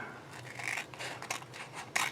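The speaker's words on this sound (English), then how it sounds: "We're going to take our scissors," Scissors snip and scrape through tape around a Magic: The Gathering proxy card, a series of close, crisp cutting strokes with rubbing sounds between them and a sharper snip at the end, no talking.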